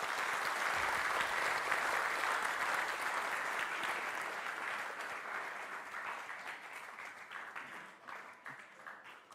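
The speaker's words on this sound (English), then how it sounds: "why don't we give God another clap offering tonight?" Church congregation giving a clap offering during a theatrical production, a long wash of dense applause that starts full and slowly thins and fades over about nine seconds.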